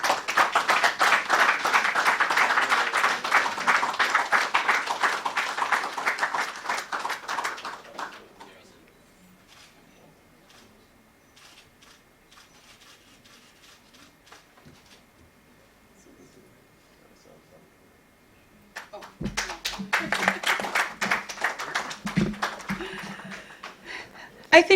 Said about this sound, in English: give this gentleman a resounding round of applause